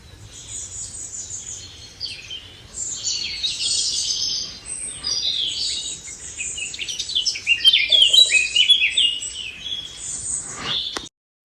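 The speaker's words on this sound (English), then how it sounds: "That was the natural sound of the forest." Small birds chirp and trill in a Galician forest, a busy, fairly close chorus of high tweets over a soft, quiet background with no voices.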